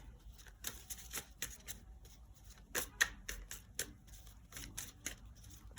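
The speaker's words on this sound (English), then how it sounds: "There's a card that I keep seeing as I shuffle" Tarot cards being shuffled, a quiet, close series of crisp riffling flutters and soft slaps in an irregular rhythm, with no talking over it.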